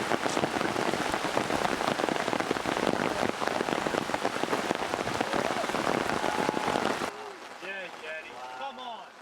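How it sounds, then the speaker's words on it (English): Heavy rain pouring down on a wooded disc golf course, a dense loud hiss that drops to lighter patter near the end while birds chirp. "When it's raining this hard, it really is hard to get a good grip."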